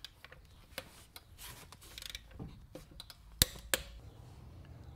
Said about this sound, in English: So we're gonna hand torque these to 140 foot-pounds